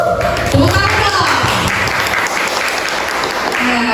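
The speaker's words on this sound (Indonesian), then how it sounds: "Tepuk tangan." Small audience clapping to welcome a guest on an education podcast, loud and close, with voices talking over the applause throughout.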